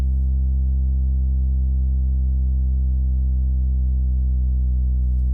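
Synthesizer oscillators sustaining one low, buzzy tone, with the fine tune detuned slightly; the note holds steady and loud for several seconds with no talking.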